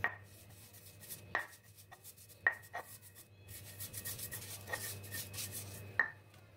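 Serundeng being ground in a stone mortar and pestle (ulekan): close, gritty rubbing broken by sharp knocks of stone on stone roughly every second, with no voices.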